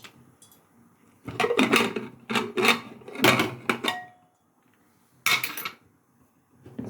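A pressure cooker of lentils, its steam already released, has the whistle pulled off and the lid opened: a series of close, crisp metallic clanks and clinks in short clusters, with no voices.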